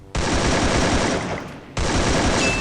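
Two rapid bursts of automatic gunfire in the mobile battle royale game Free Fire, a long loud close volley followed after a brief break by a second one, dense and continuous.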